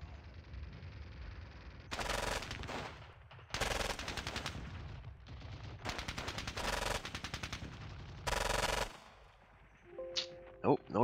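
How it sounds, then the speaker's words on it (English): Gunfire in the WWII strategy game Squad Battles: Red Victory, Ponyri battle, from an anti-tank rifle firing at point-blank range: several loud, rattling bursts of rapid shots with short pauses between them, followed by a few faint clicks at the end. "Big anti-tank rifle. Firing point blank there."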